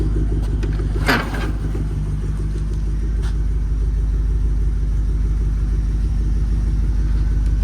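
A 1968 International D1100 pickup truck rumbles along during a ride, its engine a steady low drone inside the cab with one brief sharp bump early on and no talking.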